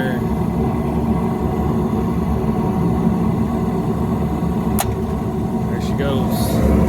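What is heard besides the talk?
Carrier package unit blower motor running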